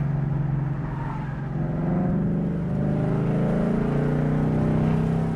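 A 2024 Ford Mustang Dark Horse with a resonator delete, in track mode, roars loudly and steadily in an aggressive racing-style drone, a deep rumble with rising revs and no talking.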